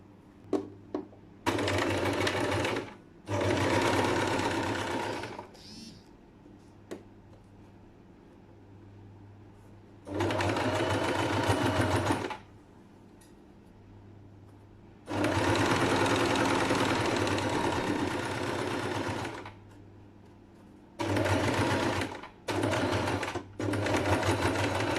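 A sewing machine stitches a 1.5 cm seam allowance, running in several loud, steady whirring bursts of two to five seconds separated by quiet pauses, close up and without talking.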